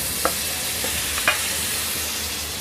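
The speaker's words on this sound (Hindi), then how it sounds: "और इसे बिल्कुल सिम गैस पर एक बार हम चला लेंगे मसालों को।" Spices and tomato sizzle steadily in a pan over a low flame, with a couple of sharp stirring scrapes cutting through the continuous hiss.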